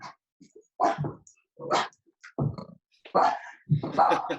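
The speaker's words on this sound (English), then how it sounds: "The dogs want to join." Dogs bark and whimper during an at-home workout, with five or six loud, fairly close yelps and barks in bursts separated by short pauses.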